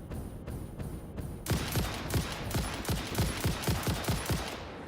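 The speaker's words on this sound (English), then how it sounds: "I feel like the rifle is a little too loud." Rapid rifle gunfire in the factory-building game Satisfactory: a dense series of repeated cracking shots, fast and rhythmic, fairly quiet against a low background hum.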